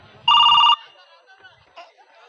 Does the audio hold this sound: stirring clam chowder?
no